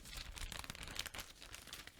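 A plastic bag crinkles and rustles in close, quiet handling while a new MSI Modern 15 laptop is unboxed, with soft irregular crackles and no voices.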